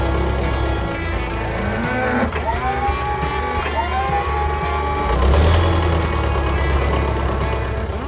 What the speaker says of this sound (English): The machine pushes the broken stones aside, slowly but steadily.